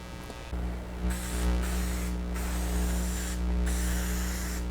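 Spray can hissing paint onto a 2008 Buick Lucerne front bumper for a second wet coat, a steady close hiss in long bursts with two brief pauses, no voices.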